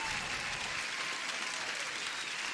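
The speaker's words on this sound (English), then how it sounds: "Applause to you guys." Steady applause from a small crowd fills the clip, a dense even patter of clapping at constant loudness with no voices over it.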